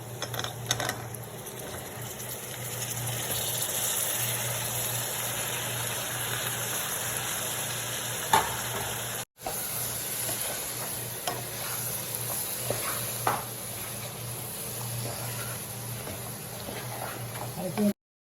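Washed brinjal fries in a spiced pan for a Kerala mezhukkupuratti while being stirred, making a continuous close sizzle with intermittent scraping stir strokes. A brief cut interrupts it midway.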